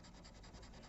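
Sandpaper rubbing back and forth over hardened CA glue on a Yamaha acoustic guitar neck during a repair, a steady close, soft scratchy hiss with faint stroke pulses and no voices.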